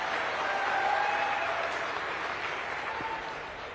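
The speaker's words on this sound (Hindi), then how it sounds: "अरे अब इसमें भी तो ताली बजाओ भाई।" Audience applause fills a youth dialogue event with the Chief Minister in Dehradun, Uttarakhand, a broad sustained clapping that slowly fades toward the end.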